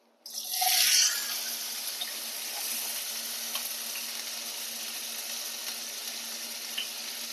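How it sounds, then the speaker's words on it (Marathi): Cumin seeds and chopped onion hit hot oil with a sudden loud crackling burst that settles into a steady close sizzle. The hiss stays even for several seconds and no one speaks. "आता या गरम तेलामध्ये आपण जिरे टाकून घेऊया आता याच्यामध्ये आपण कांदा टाकून घेऊया"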